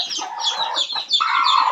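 Chickens clucking close by in a farmyard, a busy run of short, rapid clucks and squawks that carries on with barely a pause and gets louder toward the end.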